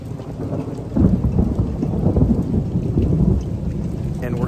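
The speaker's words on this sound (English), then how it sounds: "And we're having a thunderstorm in the middle of winter." Heavy winter rain pours steadily in Atlanta during a thunderstorm, with low rumbling thunder swelling beneath the dense hiss of rainfall throughout, loud and close with no voices.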